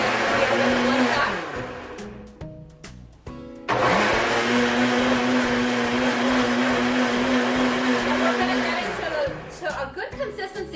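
Kitchen blender on high blending granola cup ingredients, a loud steady whir that cuts out briefly, restarts with a jolt and runs on before winding down at the end.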